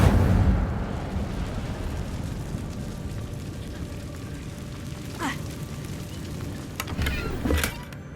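An Incendio fire spell cast in Hogwarts Legacy, a loud rumbling whoosh of flame at the start that settles into a continuous roar, with a few sharp crackles near the end.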